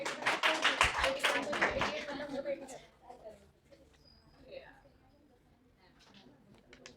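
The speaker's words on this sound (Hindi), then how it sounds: "तालियां।" An offline class preparing for CG PSC and Vyapam exams claps for a student's weekly test result, a short burst of close clapping that stops after about two seconds and gives way to near-quiet room tone with faint chirps and taps.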